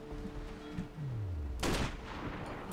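A sniper rifle in the video game Sniper: Ghost Warrior fires a single sharp, loud shot with a short trailing echo, just after a brief falling tone.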